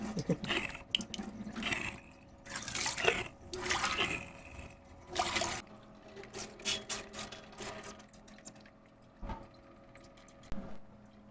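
Clean drinking water splashes and gushes in bursts through an ultrasonic cleaner tank, flushing out sediment, with sloshing and dripping between pours, close by and moderately loud.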